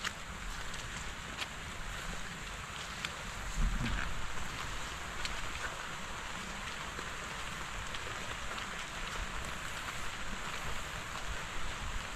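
Steady rain hissing on surfaces, a dense continuous patter with a faint thump partway through, no voices.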